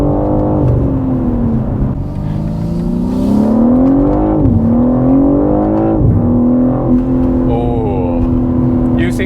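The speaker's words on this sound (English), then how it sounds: "Well, the upshift, there's a bit of lag. Downshift is very quick." A BMW G80 M3 Competition RWD engine revs loudly and continuously, its pitch climbing and dropping through several quick paddle-shift gear changes, with a slight lag on upshifts and rapid downshifts, heard from inside the car.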